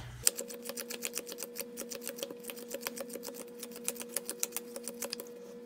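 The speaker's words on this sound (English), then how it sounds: "I'll deal 4 cards out on the table, and I'm just going to go ahead and speed it up" Playing cards dealt onto a table in four piles, sped up so the slaps come in a fast, even, rapid ticking run, close and crisp, with a steady faint hum behind.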